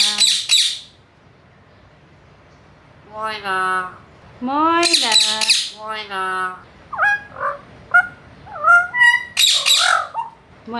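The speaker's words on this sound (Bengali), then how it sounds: "ময়না এখন মিঠু বলে কিন্তু বলতেছে না" A pet myna bird gives sharp, squawking calls in short bursts at the start, middle and end, close and loud, with a person talking between and over the calls.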